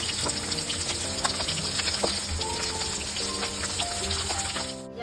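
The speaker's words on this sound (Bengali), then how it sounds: "আমাদের মাছ ভাজা হচ্ছে" Fish frying in oil with a steady crackling sizzle mixed with background kitchen clatter and tonal beeps, close and continuous throughout.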